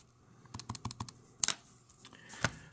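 Plastic keys on a graphing calculator keypad are pressed one at a time in an uneven rhythm: a run of light presses, then a louder burst and a single firm press near the end, close up with no speech.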